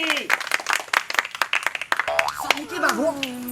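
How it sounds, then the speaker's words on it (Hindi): An audience claps in brisk bursts at a village Independence Day flag-hoisting gathering, with voices talking and singing over the claps before the clapping fades. "ताली ताली ताली ताली।"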